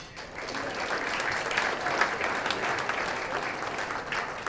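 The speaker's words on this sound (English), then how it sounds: "So again, big round of applause to you." An audience at a birding awards brunch applauds, a dense, steady wash of clapping from many hands that holds evenly for several seconds.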